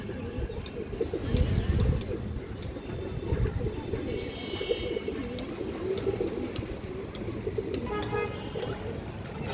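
A pure Bagha pigeon gives low, rolling coos while its wings vibrate, close by, with steady background noise and a faint car horn in the distance.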